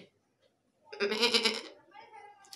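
A man imitates a sheep with his voice: a single nasal, wavering bleat lasting about a second, close and fairly quiet, after a short stretch of near silence.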